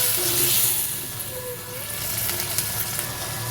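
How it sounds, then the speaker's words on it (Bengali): Continuous hot sizzling comes from a frying pan where a paste of ginger and three green chilies is sautéed for a vegetarian chickpea ghugni, and a little water is added; the hiss stays even and close throughout. "আদা আর তিনটে কাঁচা লঙ্কা একসাথে বাটা মশলাটা দিয়ে কিছুক্ষণ কষিয়ে নিচ্ছি সামান্য পরিমাণে জল দিয়ে দিচ্ছি"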